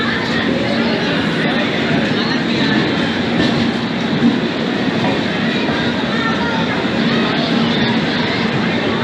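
Passenger train running on rails in Bihar, India, heard from inside a carriage: a steady, loud rumbling roar with a faint rhythmic clatter that holds continuously throughout.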